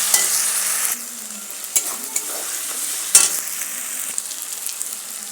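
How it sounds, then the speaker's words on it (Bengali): Spices and tomato paste fry in a pan with a loud, continuous sizzle, punctuated by a few sharp scraping stirs and a brief low hum near the start; nearby and without speech. "তারপর দিয়ে দেবো টমেটো বাটা, দিয়ে কিন্তু নেড়ে ছেড়ে খুব সুন্দরভাবে কিন্তু আমি এইগুলোকে ভেজে নেব"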